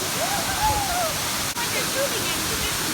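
Smith Falls, the highest waterfall in Nebraska, set in a state park, makes a steady, loud rushing roar that fills the whole clip.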